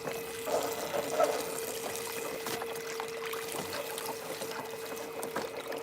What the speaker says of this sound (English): carefully washing that material just down into that pan